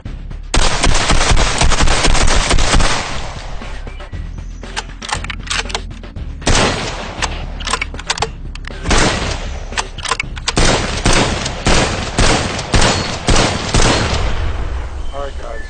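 Loud, sustained automatic gunfire in an action movie, with long bursts of rapid shots broken by brief gaps. Voices can be heard faintly underneath during the lulls.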